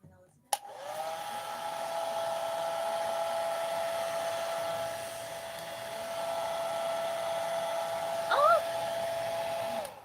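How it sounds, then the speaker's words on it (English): A hair dryer on its lowest setting switches on with a click and runs with a steady, close, continuous whirring hum. "I put my hairdryer on the lowest setting."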